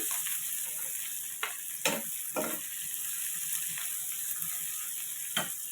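Onions fry quietly in a pan while amaranth-leaf fry is being cooked, giving a faint, even sizzling hiss broken by a handful of sharp clicks from stirring.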